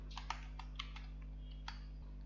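Keys on a computer keyboard are typed during work in Blender, about ten soft, irregular clicks close by over a low steady hum, with no talking.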